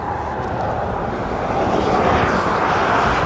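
A Loganair airplane at Aberdeen Airport drones with a broad, steady engine roar that swells slightly louder as it moves closer.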